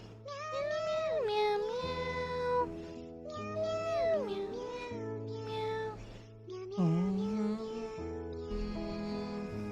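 A cat lets out three long, drawn-out meows close by, each rising and falling in pitch, with short pauses between them.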